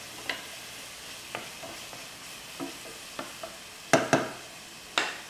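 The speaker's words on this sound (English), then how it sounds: "Onion and garlic, we're only going to cook them until the onions start to get translucent" Onion and garlic sautéing in a pan, heard as a faint, low sizzle under scattered spoon scrapes and stirring knocks, with a few louder clacks toward the end.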